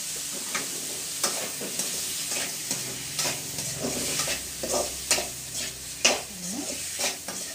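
Chicken stir-frying in coconut oil for pepper chicken sizzles close by, broken by frequent sharp scrapes and clanks of a spatula against the pan in an uneven rhythm, with no voices.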